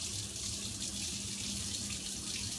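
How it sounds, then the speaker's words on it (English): Tap water pours steadily into a small beaker during a water test, giving a continuous hissing splash at an even, moderate level with no voices. "So we take our little beaker and we fill up the pH"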